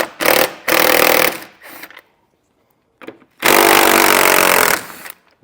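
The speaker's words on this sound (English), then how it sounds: "I'm using a 10mm size socket to get them out." A 10mm socket on a powered driver backs out fascia fasteners on a 2021 Ford Escape, giving loud, close whirring bursts: two quick runs, a short quieter one, a silent gap, then one long run.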